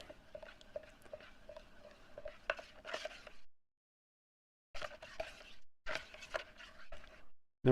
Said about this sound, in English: I'm mixing the sides, scraping the sides and the bottom of this thing.